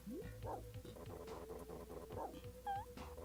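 Dogs guarding a dog food warehouse in the SNES game Beethoven pant in quick, faint, rhythmic breaths, mixed with soft game sound effects and music tones.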